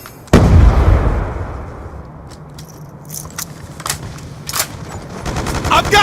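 Black Ops 2 combat: a loud, sudden grenade blast at the start fades into rumbling, followed by scattered sharp gunshots and metallic clatter, close and intense, with no speech over it.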